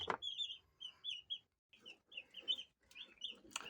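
Three-day-old broiler chicks peeping in quick high-pitched bursts, several short chirps in a row with brief pauses, fairly close and soft.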